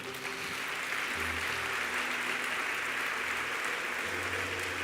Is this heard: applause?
yes